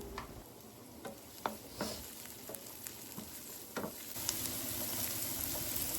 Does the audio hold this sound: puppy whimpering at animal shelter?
no